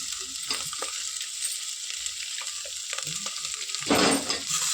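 Curry leaves crackle and sizzle in hot oil in a pan while chicken bagara rice is being cooked, a steady close spitting fry that jumps into a louder burst of sizzling near the end.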